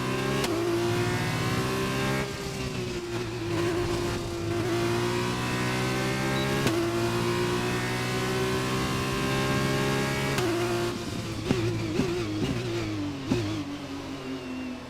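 A Formula 1 car in F1 2021 at the Barcelona circuit, its high-pitched engine screaming and revving up through the gears continuously and loudly, with brief shifts and dips near the end.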